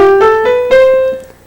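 Piano scale played at normal, even volume: a few clear notes struck in quick succession, each ringing briefly before the sound fades at the end.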